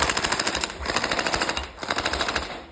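Electric AKM47 gel blaster with a metal body firing full-auto in rapid, close, loud bursts of sharp mechanical clacks, with a brief gap between the strings of shots.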